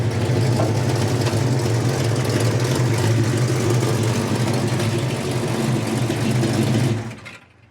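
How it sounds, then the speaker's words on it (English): A deep, rumbling stroker V8 in a 1970 Ford Mustang Mach 1 idles steadily and loudly close by, its low throb constant for several seconds before cutting off abruptly near the end. "That engine sounds mean."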